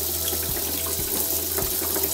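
Water runs steadily from a tap into a basin, filling it to soak laundry towels with powder soap and baking soda, a continuous close rushing with a few low knocks.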